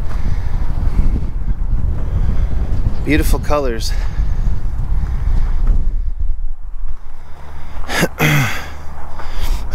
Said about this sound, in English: Man, that wind is really gusting.